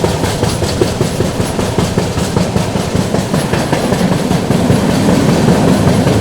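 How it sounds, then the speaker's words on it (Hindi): Patliputra Superfast Express train pulling into Kalyan Junction, a steady loud rumble of rolling wagons and rail noise with faint clatter, continuous throughout with no talking. "चलिए दोस्तों ट्रेन अपनी पहुंच रही है कल्याण जंक्शन पर।"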